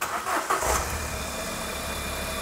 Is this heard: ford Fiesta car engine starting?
yes